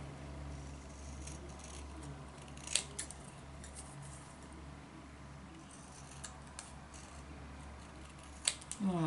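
Scissors snipping a small strip of paper, a few quiet, sparse cuts close by in a calm room, with no talking.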